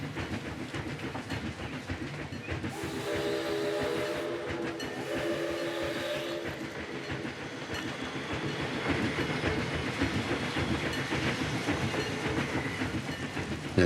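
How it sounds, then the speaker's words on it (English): Steady rolling of a zoo train along rails in a zoo video game, a continuous rumbling clatter with faint rhythmic clicks, moderately loud and sustained throughout with no talking. "Does anyone else find the sound of trains therapeutic?"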